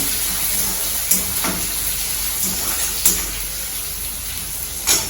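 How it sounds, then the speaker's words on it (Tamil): Onions and curry leaves sautéing in hot oil for a no-garlic brinjal-mango sambar lunch, a loud steady sizzle with a few occasional stirring clatters and no talk. "கொஞ்சம் கருவேப்பிலை இப்போ சேர்த்துறேன் இந்த வெங்காயம் வதங்கட்டும்"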